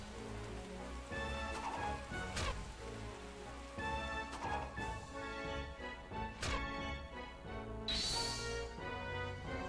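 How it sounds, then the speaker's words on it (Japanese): Steady patter of rain in the video game Taikou Risshiden V, a soft continuous wash sitting under layered game music with a few sharp bursts and chimes, fairly quiet overall. "雨止まないと無理だな。"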